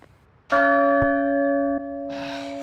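A struck bell with long sustained harmonic ringing, a single loud toll near and clear that decays slowly.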